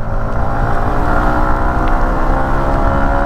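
Yamaha MT-15 motorcycle engine held at high revs above 6000 RPM, running rough: a loud, steady, buzzing drone with no breaks, close to the microphone.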